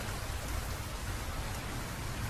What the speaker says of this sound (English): as I look out the window and watch the rain fall